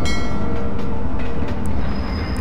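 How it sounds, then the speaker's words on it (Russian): Trains rolling along rails in the Spider-Man 3 video game, a steady loud rumble of wheels and carriages with a faint high squeal near the end, no talking. "Смотрите, поезда загоняют"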